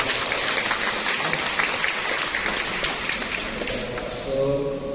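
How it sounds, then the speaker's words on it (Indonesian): A crowd at a church anniversary mass claps in steady, dense applause that thins toward the end as a faint tonal sound comes in. "Kita beri aplaus untuk"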